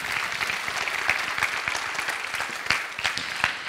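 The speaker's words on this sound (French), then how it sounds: "On peut l'applaudir bien fort, s'il vous plaît." Audience applause at a Master Finance graduation ceremony in 2024: steady, dense clapping from a large indoor crowd, with a few louder claps standing out. It runs unbroken for several seconds and no one speaks.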